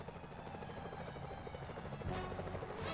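Security choppers in a stealth platformer game keep up a loud, rhythmic rotor thump throughout, joined near the end by a deeper swelling rumble and brighter noise burst, with no one talking.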